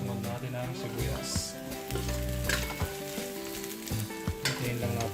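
Onions sauté with browned chicken in a pan for adobo, a loud, close sizzle with repeated stirring and scraping against the pan, while a voice talks over the frying.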